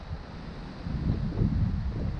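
Low, blustery wind rumbling close to the microphone, building into stronger gusts in the second half.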